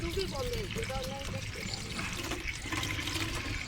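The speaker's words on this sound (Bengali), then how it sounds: "পড়ছে জল পড়ছে" Water pours steadily while a container is being filled, a continuous close splashing flow, with a voice briefly audible over it near the start.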